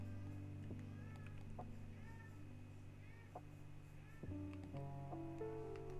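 A pet cat meows several times, short rising and falling calls spread across the stretch, over a steady low hum in an indoor room, with a voice speaking briefly near the end.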